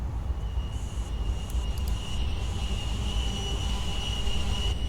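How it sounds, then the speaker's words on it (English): A heavy freight train in the Train Sim World game is braking to a stop, with a loud, continuous rumbling rail roar and a thin high whine across the whole stretch, and no voices. "We will stop the train with the automatic brake."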